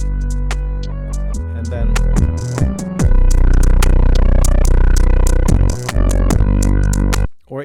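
Loud, gritty synth music through a bitcrusher effect, crunchy lo-fi digital distortion smearing the notes, heavy bass and sharp clicks; a voice speaks briefly at the start.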